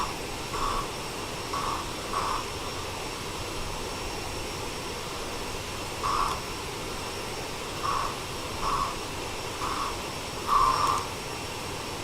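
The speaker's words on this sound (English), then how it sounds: "You can hear the roar of this Air Canada engine." An Air Canada Express CRJ-900 jet engine in the MSFS 2024 flight simulator gives a steady broad drone with several brief swells that rise and fall, heard alone without talk.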